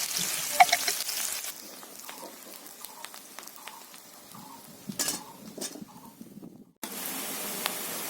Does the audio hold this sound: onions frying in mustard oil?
yes